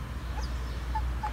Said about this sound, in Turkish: Horozumuza bakın şöyle.